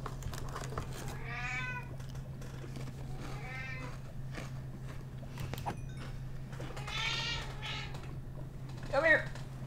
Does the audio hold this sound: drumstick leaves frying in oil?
no